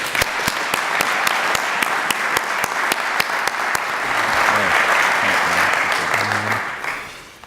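Warm, sustained applause from a seated audience greets Dr. Manny Brewer at a global ministry gathering, steady and full before tapering off, with a voice faintly heard beneath the clapping.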